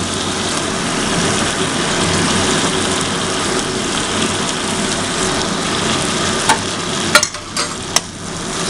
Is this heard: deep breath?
no